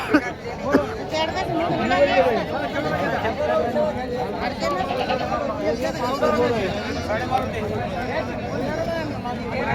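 Goats bleat here and there amid a dense crowd chatter, with many voices talking at once in a busy outdoor goat market in Parbhani.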